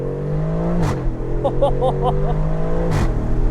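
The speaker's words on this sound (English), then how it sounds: "you hear that exhaust valve open up a little bit" An Aston Martin Vantage engine revving under steady drone, with sharp exhaust pops, snaps and crackles as the exhaust valve opens and the pitch drops and climbs between gear changes.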